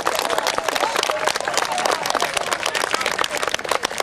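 Spectators at a rally-style motorsport gathering clapping and cheering in a dense, continuous burst of applause, close and lively, with voices mixed in.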